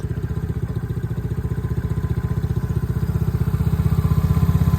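A Tao Tao 110cc four-stroke ATV engine running steadily nearby, a low, even chugging pulse that grows slightly louder, with no voices.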